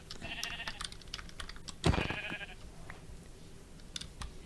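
A sheep in the Minecraft game bleats in a couple of short calls, with a louder bleat near the middle, while keyboard keys click steadily underneath.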